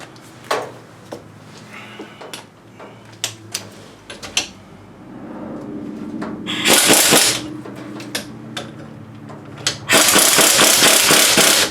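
Air impact wrench working on a Hyundai Elantra: scattered clicks and taps of sockets and tools, then two loud sustained bursts of rattling hammering, close and harsh.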